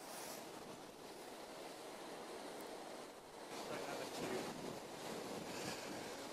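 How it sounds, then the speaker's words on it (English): Brisk wind blows along the Grand Union Canal during a fishing outing, a steady, close broadband rush that swells slightly midway and carries on with no clear voices. "there's quite a brisk wind blowing"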